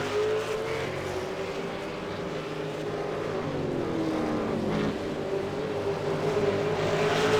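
V8 race cars racing at Circuit Gilles Villeneuve, a steady high engine roar with rising and falling pitch sweeps as cars pass, fairly loud and continuous with no talk.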